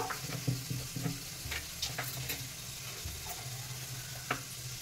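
Chopped green chillies and cauliflower fry gently on a low gas flame, a soft steady sizzle broken by light stirring taps and occasional spatters, with no one speaking.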